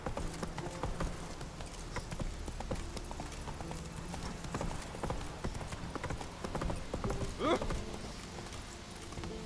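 Horse hooves walking in The Witcher 3, a steady, close clip-clop rhythm running throughout, with a brief neigh near the end and a voice speaking over it.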